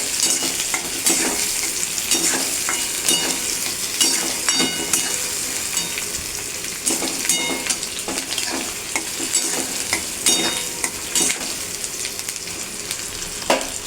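Chopped onion is sautéed in a pan until brown, giving a steady close sizzle of frying with repeated scraping and stirring strokes of a spatula throughout, and no voices.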